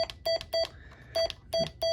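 A President Lincoln 2+ radio transceiver gives short electronic beeps on changing channel, six of them in quick succession at a steady pitch with a brief gap midway, fairly quiet against a faint background.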